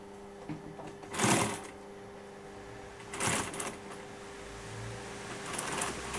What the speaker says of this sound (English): I'm stitching the pocket inside now.